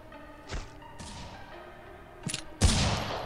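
Gunfire in the mobile shooter Critical Ops during a ranked match: a few scattered sharp shots, the last one loudest and closest, with short reverberant tails and no talking.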